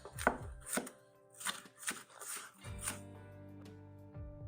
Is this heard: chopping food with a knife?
yes